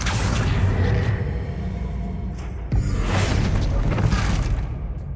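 A Confringo fire-blast spell cast in the video game Hogwarts Legacy: a loud burst lands around the middle, then spreads into a roaring whoosh over a dense, continuous bed of game sound effects.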